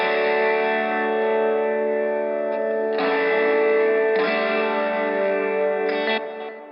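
Sustained electric guitar chords from a praise and worship song made with Logic Pro X stock plug-ins, drenched in reverb and chorus, loud and steady, with chord changes at roughly even intervals and no voices.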